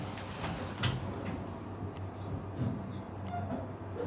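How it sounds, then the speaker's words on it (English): An elevator door slides shut in an office building lift, a soft continuous rumble with a few faint clicks over a steady low hum, fairly quiet and close. "Door is closing."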